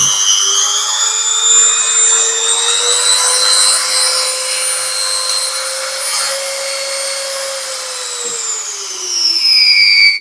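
A mini rotary grinder runs alone, a loud, high-pitched motor whine that climbs gradually in pitch as its speed rises, holds, then dips and surges again near the end.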